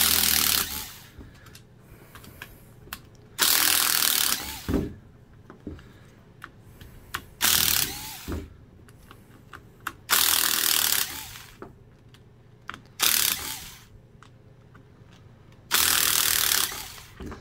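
A small Makita power driver with a Milwaukee bit whirs in about six loud bursts, each a second or two long, unscrewing drill handle screws on a Milwaukee drill, with quiet pauses and light handling clicks between them.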